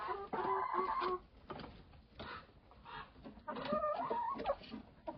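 Chickens cluck and a rooster calls in a busy plastic-sheeted coop, with pecking and scratching noises as the birds feed close by.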